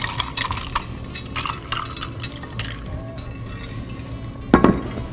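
A spoon stirs sangria and sparkling water in a glass, giving repeated light clinks and scraping taps over a steady background, with a louder clink near the end.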